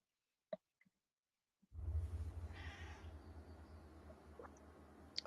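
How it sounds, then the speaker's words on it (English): A few faint, short cat sounds in near silence, followed by a steady low hum and rustle, with a soft meow-like cry in the middle. "Well, actually, that was my cat."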